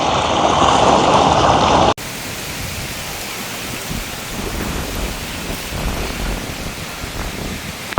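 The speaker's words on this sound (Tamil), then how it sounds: "அப்படியே போகிற தண்ணி" Water pours along a cement-lined irrigation channel on a large chilli farm in Jaffna, a loud, steady rushing that shifts in tone after a sudden cut and then flows on evenly.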